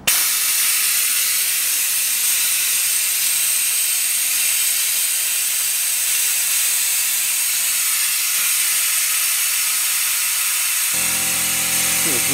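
Steady broadband hiss from an opened brake bleeder valve on a Land Rover Discovery 3 during brake hose replacement, continuous and fairly loud throughout, ending with a brief change near the close.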